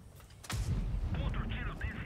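A single heavy tank cannon boom from an SU-85B in World of Tanks Blitz, sudden and loud, followed by a rumbling tail and electronic game sounds.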